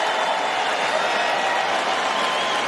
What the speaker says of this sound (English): Listen to the applause. That was a standing ovation for the president on that line.